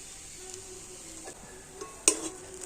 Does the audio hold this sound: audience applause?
no